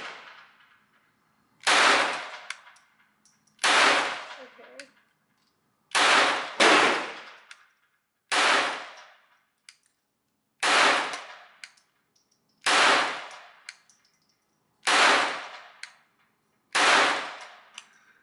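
Taurus TX22 Compact .22 pistol fired outdoors, nine sharp loud single shots at irregular intervals of about two seconds, each with a short ringing decay, one pair fired close together, no talk.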